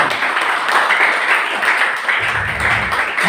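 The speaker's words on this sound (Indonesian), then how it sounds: "Tepuk tangan." A church congregation at a Sunday service claps together in sustained, dense applause that carries evenly from start to finish, with no voice standing out above it.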